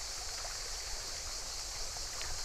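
A stream about 100 metres from a farm in Dagestan flows steadily, a continuous, close, rushing wash of water with no pauses and no voices.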